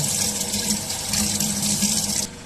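Tap water runs and splashes steadily into a sink as a fish is rinsed after scaling, close and constant, then dropping slightly near the end, with no talking.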